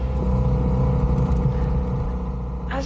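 A 2024 Kawasaki ZX-4RR motorcycle pulls away on a UK road, its engine note rising briefly amid steady close road and engine rumble.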